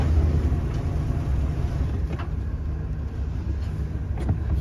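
Motor of a 35-year-old RV on a test drive, a steady low rumble heard from inside the vehicle with faint rattles and clicks, constant and moderately loud with no talking.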